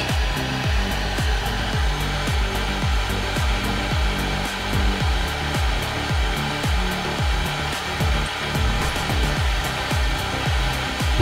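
A hot air rework tool blows steadily while heating a GPU flip-chip to 150 degrees, a continuous close rushing roar with a faintly pulsing texture throughout.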